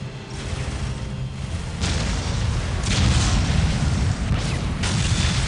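Ork artillery shells explode in a Warhammer 40k Dawn of War battle scene, deep rumbling booms rolling in several waves over a constant low battlefield roar, with no speech.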